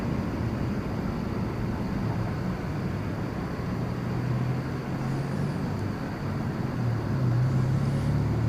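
An American Airlines jet departing DFW Airport at night, its steady broadband engine roar holding loud and continuous throughout, with a low rumble rising slightly toward the end.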